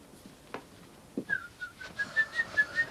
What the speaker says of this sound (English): The whistling, it's going right through me.